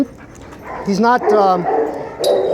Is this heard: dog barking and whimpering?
yes